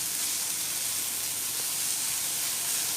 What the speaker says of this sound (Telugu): 1 రెబ్బ కరివేపాకు కూడా యాడ్ చేసుకుని అల్లం వెల్లుల్లి పేస్ట్ పచ్చివాసన పోయే వరకు వేయించుకోవాలి.